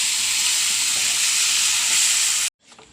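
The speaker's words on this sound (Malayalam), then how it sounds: "അപ്പോൾ തക്കാളി ഞാൻ അടിച്ചിട്ട് ഒഴിക്കണത് ഇതിൽ" Blended tomato hits frying masala in a pan for an egg roast, setting off a loud, bright, steady hissing sizzle for about two and a half seconds before it cuts off abruptly to near silence.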